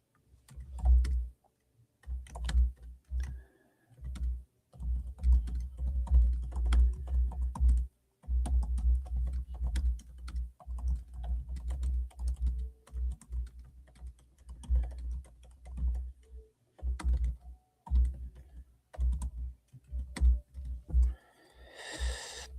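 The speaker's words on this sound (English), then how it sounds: "I'm just typing up this message here to send to them" Close, quiet typing on a computer keyboard, irregular bursts of key taps with short pauses between them, continuing for over twenty seconds with no one talking.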